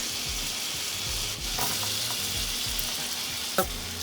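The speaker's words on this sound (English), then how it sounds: "Once the butter is melted, let's add garlic." Garlic sautés in melted butter in a pan with a close, steady sizzle and crackle, broken by soft stirring scrapes and one sharper clink near the end.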